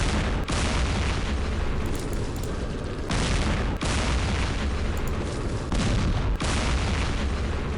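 Heavy weapons fire in the wargame Campaign Series Middle East: a dense, continuous roar of booming explosions and artillery-like blasts, with sharp loud impacts punctuating it every second or two, no voices.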